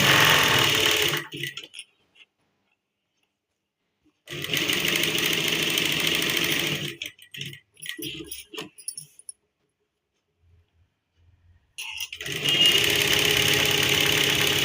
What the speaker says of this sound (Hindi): इस तरह मिलाते हुए हम इसको सिलाई मार लेंगे